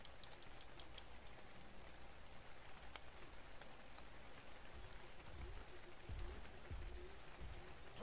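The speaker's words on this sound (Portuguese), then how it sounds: "Tá chovendo aqui." Light, steady rain in the game Ark, a soft continuous patter with scattered drop ticks, faint and distant, and a few low thumps near the end.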